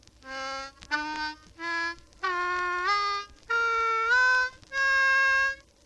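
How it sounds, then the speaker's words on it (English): Diatonic harmonica draw notes bent in the low octave, six sustained reedy tones in sequence, several sliding in pitch as they bend, played clearly and alone with short gaps. "When you have perfected your bending technique, you will be able to play a full octave in this low area."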